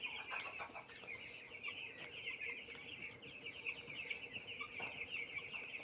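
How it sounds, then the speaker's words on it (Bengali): A crowd of twelve-day-old broiler chicks on a chicken farm peep and cluck continuously, a dense, steady chorus of high chirps heard at moderate distance with faint background noise and no talk. "এলো আমার মুরগির বাচ্চা"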